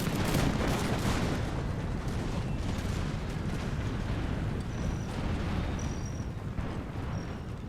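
Musket volleys crackle through a battle of the American Revolution in a strategy game, a steady distant rumble of overlapping shots and booms held at moderate volume throughout.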